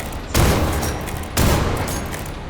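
Prince rifle firing in the video game Grave Digger, two dense bursts of rapid automatic fire that start abruptly and run on loud and close, with no pause between shots.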